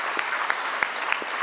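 Brief burst of audience applause at a golden jubilee celebration honoring returning 1974 batch classmates, steady dense clapping with a few sharper individual claps standing out.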